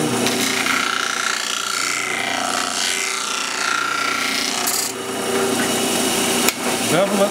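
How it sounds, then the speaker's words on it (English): An angle grinder bevels the top edge of a steel pedestal liner on a switcher truck, giving a steady, loud abrasive whine and grinding rasp that holds for several seconds with brief dips. "So we're going to commit grinder abuse here"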